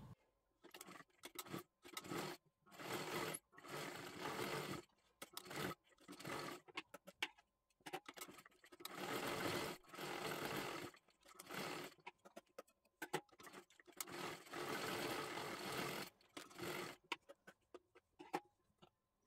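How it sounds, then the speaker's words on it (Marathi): Home sewing machine stitching a katori blouse, short rapid runs of mechanical whirring and ticking separated by brief stops, close and fairly quiet with no talking over it. "हे अशा पद्धतीने तुम्ही शिलाई मारू शकता"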